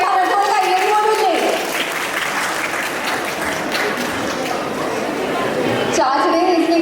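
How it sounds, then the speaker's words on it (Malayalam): Wedding guests break into a dense burst of applause that runs for several seconds, with voices and tonal sounds heard briefly before the clapping and again as it fades. "ഇത്രയും പറഞ്ഞപ്പോൾ കയ്യടി പോലുമില്ലേ?"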